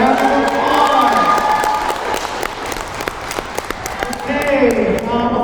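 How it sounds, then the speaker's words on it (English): A crowd claps loudly for pageant contestants at a children's princess pageant, with dense applause mixed with cheering and shouted voices rising over it. "Let's give these ladies a round of applause"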